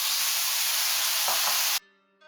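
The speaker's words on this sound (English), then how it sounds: "now you pour the water in and start steaming it" Gyoza sizzle loudly in a hot pan as water is poured in, a dense hissing burst of frying and steam that cuts off abruptly, leaving a faint tonal hum.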